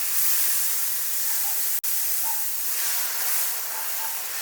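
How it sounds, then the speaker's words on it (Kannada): Dosa batter spread on a hot pan gives a steady, loud, close hiss of sizzling that continues throughout, with one sharp click partway through. "ದೋಸೆ ಸೌಂಡ್ ಚುಸ್ ಅಂತ ಬರೋದೇ ಚೆಂದ ಅಲ್ಲ"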